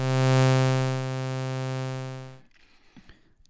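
A synthesized tone generated from an image's red channel in SmplASketch, a loud buzzy harmonic-rich drone held for over two seconds before cutting off abruptly, leaving faint room noise.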